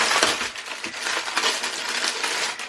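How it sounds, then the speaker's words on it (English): Plastic bag being opened during a diamond painting unboxing, crinkly rustling close up, continuous and fairly loud with no talk. "That's most of the rustling done."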